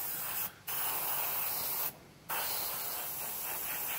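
Olive and duck egg green SMS paint sprayed onto parts, a close, steady hissing spray broken by two short pauses, otherwise continuous with no talking.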